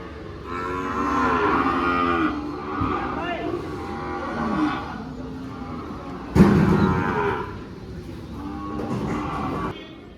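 Calves moo repeatedly in long, bellowing calls, several overlapping nearby, at the Kodad cattle market, with a busy murmur of people in the background.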